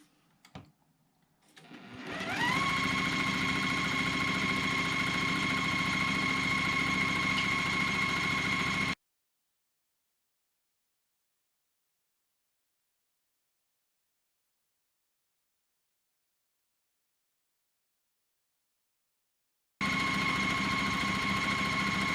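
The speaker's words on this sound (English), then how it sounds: "So we're going to go ahead and just sew those together." A sewing machine stitching quilt block fabric pieces together with a very short stitch length: it spins up and runs in a steady, loud, close-up whir, stops, then starts again after a long silence.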